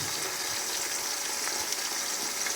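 Onions and chopped tomatoes frying in a pan for village-style chicken biryani, giving a steady, even sizzle close by with no speech.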